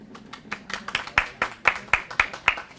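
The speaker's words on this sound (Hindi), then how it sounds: "तालियां तो बजाते रहिए सब आप लोग" Applause from an audience of Delhi University students at a gathering, steady rhythmic clapping that builds into crisp, regular beats, close and fairly loud, with no voices over it.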